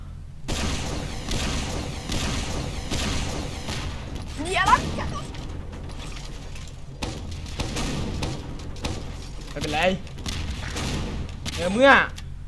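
Repeated pistol shots and thuds in Monster Hunter gameplay, sharp scattered bangs over a busy game soundtrack, with someone talking excitedly over them.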